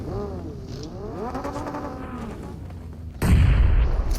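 A vehicle engine drones and shifts pitch as it drives in a BGMI match, with a louder rumbling burst near the end, while gameplay sounds play alongside.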